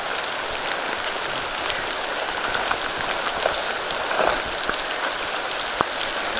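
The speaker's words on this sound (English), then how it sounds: "What a wet, soggy day on the Skok. It's just pouring." Heavy rain pours through a wet forest along the North Fork Skokomish, a dense, constant hiss of drops hitting leaves and ground with occasional louder nearby splats.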